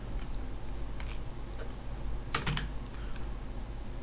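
Computer keyboard keys are tapped while working in 3D modeling software, a few soft, scattered clicks and a short quick cluster of keystrokes over a faint steady hum.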